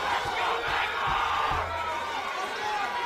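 An MMA fight crowd cheers and yells continuously, a dense, loud roar of voices with scattered whoops throughout, plus thuds in the background.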